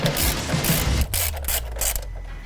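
A ratchet loosens an 11 mm clamp on the intercooler pipe boot of a 2003–07 Ford Powerstroke 6.0L, giving close, loud clicking strokes in a quick burst followed by a few slower turns.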